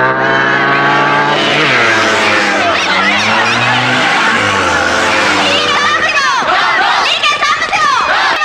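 Car tyres skid loudly in an action movie scene, with long wavering squeals that fade into rougher noise, while voices shout over it.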